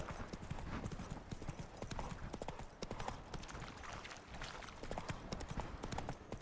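Horse hooves trotting steadily in The Witcher 3 game, a brisk continuous clip-clop close up and loud, filling the whole stretch with no other sound on top.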